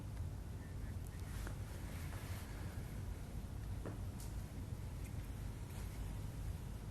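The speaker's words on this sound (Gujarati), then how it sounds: "અરવલ્લીના બાયડમાં ભારે પવન સાથે ધોધમાર વરસાદ" Strong wind with a heavy downpour in Bayad, Aravalli district, Gujarat: a dense, unbroken roar with a low rumble underneath, steady and loud throughout with no voices.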